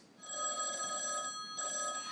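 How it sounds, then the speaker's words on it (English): A telephone rings during a stage play, a steady bell-like electronic trill in two bursts with a brief gap, heard fairly clearly in a quiet room. "Sure, the fucking phone rings."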